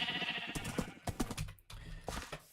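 Sheep bleat on an old sheep farm in a video game survival world. Several wavering bleats rise and fall over about two seconds, mixed with sharp clicks like keyboard typing and no talking.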